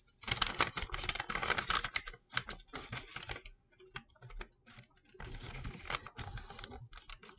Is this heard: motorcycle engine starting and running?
no